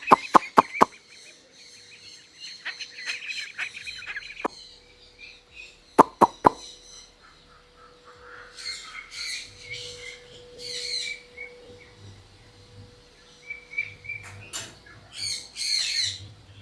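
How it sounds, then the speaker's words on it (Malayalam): A flock of ducks, one of them lame, gives loud harsh squawks and quacks in bursts, with a few sharp early calls, then repeated raspy cries and softer low calls near and far. "ഒരു മുടന്നം താറാവുണ്ട് കേട്ടാ."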